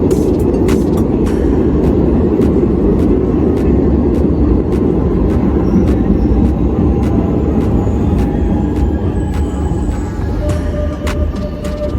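A metro train rumbles loudly through an underground station in Milan, a continuous heavy roar with rhythmic clicks of wheels over rail joints and a faint high squeal toward the end.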